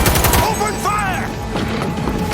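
Video game gunfire from Cyberpunk 2077 erupts in a loud, close volley of rapid shots, a brief burst of combat noise with shouted voices mixed in.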